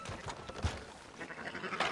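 Sheep bleat in Red Dead Redemption 2 on PlayStation 4 Pro, a short, close, wavering cry over a busy game soundscape.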